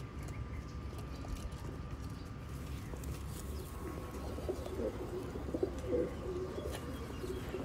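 Kept pigeons give soft, low coos in the latter half, faint against a constant murmur of background noise and occasional light chirps.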